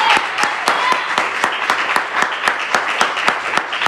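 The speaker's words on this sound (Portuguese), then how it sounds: "Bate as palmas para o Senhor Jesus." A church congregation claps in unison, a rhythmic beat of sharp collective claps at a steady pulse, loud and close, over a soft murmur of crowd sound.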